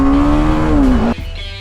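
A BMW G 310 GS motorcycle revs hard in first gear, a loud, close engine whine that climbs, holds, then drops sharply as the throttle closes.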